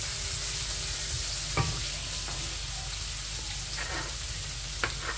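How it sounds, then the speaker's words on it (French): Onions cooking in a pan give a continuous low sizzle, with a few brief clicks of a utensil as they are stirred. "J'attends que mes oignons cuisent bien. Je vais mélanger quand même."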